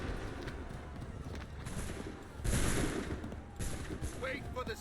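Musket volleys crackle from an Assassin's Creed 3 battle, a dense bursty fusillade with a louder swell midway and scattered hoof-like clatter beneath, steady and fairly loud throughout.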